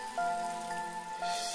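Rain falls as a steady soft patter with sustained tonal music underneath, fairly quiet and without voices.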